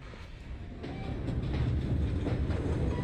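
A train in the video game Assassin's Creed Syndicate rumbles and clatters along the rails, a steady rolling noise that swells slightly louder after the first second and carries on without talk.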